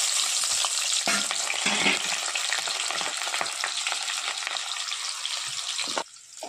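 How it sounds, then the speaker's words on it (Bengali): Dried chilli, a bay leaf and three chopped onions fry in about 100 grams of hot oil for chicken kosha. The close, loud sizzle is stirred and crackles steadily, then drops off abruptly near the end. "তেল গরম হয়ে গিয়েছে, শুকনো লঙ্কা, একটা তেজপাতা দিয়ে দিচ্ছি, 3টে পেঁয়াজ কুচি দিয়ে দিচ্ছি।"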